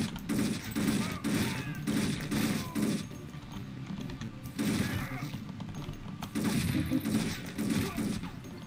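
Repeated bursts of gunfire from the player's weapon in the action game Thing Thing Arena Pro, rapid clustered shots in several volleys separated by brief lulls, loud and close.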